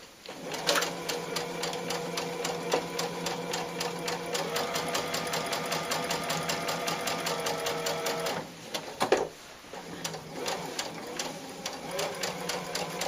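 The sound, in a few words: sewing machine stitching cloth doll bodies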